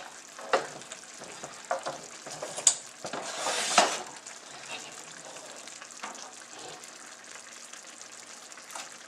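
Spaghetti cooks in tomato sauce in a pan, giving a steady soft sizzle and bubbling with a louder burst of frying and stirring near the middle, plus occasional clinks of utensils against the pan.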